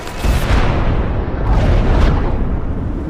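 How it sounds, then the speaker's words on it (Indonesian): A big explosion from a large missile strike in an action film, a loud, sustained broadband roar with a second surge of blast partway through, rumbling on to the end. "Simbah pun terlihat puas dengan ledakan besar yang menimpa musuhnya tersebut"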